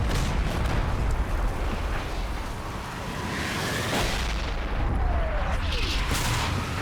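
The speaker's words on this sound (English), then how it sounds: "The anticipated SS artillery barrage comes in." Artillery barrage in the war game Combat Mission, a dense continuous roar of overlapping heavy blasts and rumbling impacts, loud and sustained throughout.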